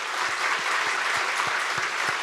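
Sustained applause from a church congregation at a New Year's Eve worship service, a thick, even roar of many clapping hands with a few distinct claps punctuating it.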